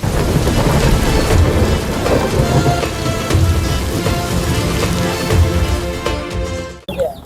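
Heavy rain pours down steadily outside with rolling thunder in Kapasia, Gazipur, loud and close, before the sound cuts off abruptly at the end.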